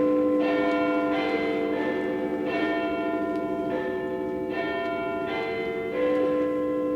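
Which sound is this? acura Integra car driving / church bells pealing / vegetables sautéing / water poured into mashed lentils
church bells pealing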